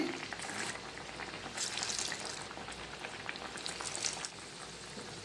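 Spicy lentil vada fritters sizzle in hot oil, a steady, close crackling and bubbling hiss that runs throughout with no talking.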